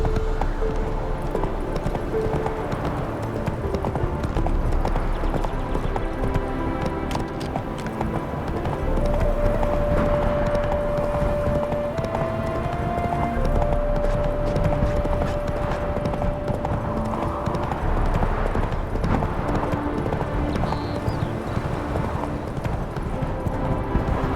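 Roach the horse gallops in The Witcher 3, hooves clip-clopping in a steady, continuous rhythm close by over a busy background bed.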